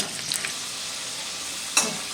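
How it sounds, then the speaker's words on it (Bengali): Potatoes frying in a pan for a duck curry, a steady close sizzle with a couple of sharp scraping stirs, the louder one near the end, and no talking. "এবার আমাদের আলুটা দেখেন খুব ভালো ভাজা ভাজা হয়ে গেছে"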